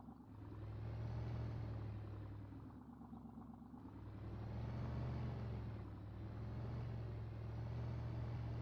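An old Chevy pickup truck in Farming Simulator 19 drives along with a steady low engine rumble, the drone dipping briefly in the middle before carrying on evenly to the end.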